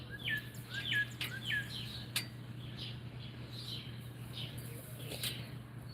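Backyard songbirds chirping in quick repeated phrases, one sharp louder call among them, over a constant low hum; no voices.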